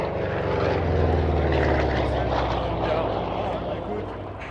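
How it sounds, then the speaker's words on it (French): A Hawker Sea Fury piston-engined propeller fighter drones loudly and steadily at the Melun Villaroche airshow, its engine roar holding for several seconds before easing slightly, with voices mixed in. "L'avion est un Hawker Sea Fury."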